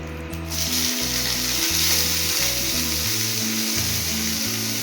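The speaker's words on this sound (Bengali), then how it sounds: "এই যে পেঁয়াজটা দিয়ে দিচ্ছি।" Onions sizzle loudly as they fry in a pan for a Kolkata-style dinner, a dense continuous crackle close by with stirring scrapes and no talking.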